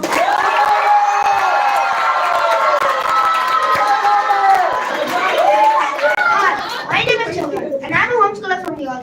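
An audience at a school round of a children's literature festival cheers and shouts for a poetry performer, a loud sustained mass of young voices that breaks into scattered yells and claps toward the end.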